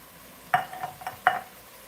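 A spoon stirs diced tomatoes and green chili into a pot of charro beans in a home kitchen, giving two distinct clinks against the pot with soft scraping in between, close and fairly quiet.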